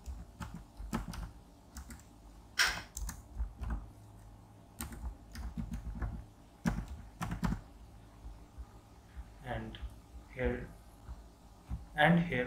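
Typing on a computer keyboard in short bursts of clicky keystrokes with pauses between, close by, while a person talks over parts of it.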